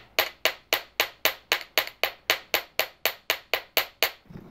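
Hammer blows on copper wire shaped into a Celtic-style sweater pin, about fifteen sharp, evenly spaced strikes in a steady rhythm, close and clear with no talking.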